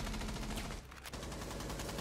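Gunfire in the Rainbow Six Siege video game: rapid, dense automatic shots rattle almost continuously, quiet overall, with one brief gap near the middle.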